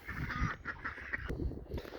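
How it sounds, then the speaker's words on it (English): Pet ducks quacking close by in a garden vegetable patch where silver beet is being harvested, a steady run of short nasal calls with rustling under them. "My ducks have come in to check on what I'm doing."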